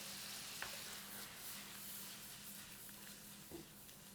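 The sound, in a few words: vegetables sautéing in a pan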